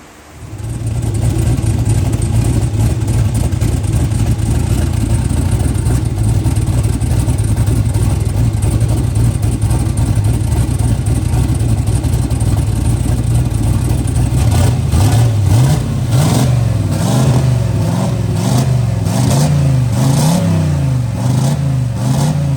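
A car engine fitted with a homemade 1000hp turbo kit runs loud and close in a driveway, idling with a steady rumble before breaking into a series of sharp, rising revs near the end.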